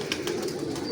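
Pigeons coo softly in breeding cages at a loft setup, a low throaty murmur from several birds blending into a steady, close hum.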